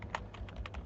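A web address is tapped out on a computer keyboard in a quick, light run of close keystrokes, faint and without talk.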